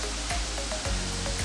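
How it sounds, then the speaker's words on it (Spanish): Water rushes continuously in the river below a waterfall at Cascada de Tejería near Motozintla, Chiapas, a steady even roar with a few soft knocks close by. "Allá abajo pueden apreciar el río"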